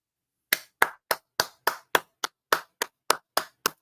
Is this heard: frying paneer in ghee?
no